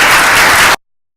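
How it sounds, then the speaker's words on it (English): Brief burst of audience applause for a speaker at a conference closing session, loud dense clapping that cuts off abruptly after under a second. "help me recognize the speaker, and a round of applause for them"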